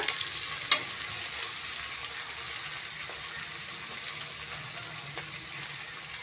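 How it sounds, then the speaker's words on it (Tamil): Onions sauté in a pan with a fairly soft, steady frying hiss. Occasional clicks and scrapes of stirring sound close by, with no talking. "கலந்து விட்டுக்கோங்க வெங்காயம் நல்லா வதங்கி வரட்டுங்க"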